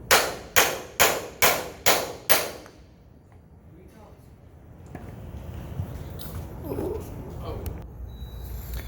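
Six sharp, loud hammer blows strike a tool on a Schwinn bicycle pedal to drive it out of the Morse taper, evenly spaced in quick succession, followed by quieter shop noise and faint handling sounds.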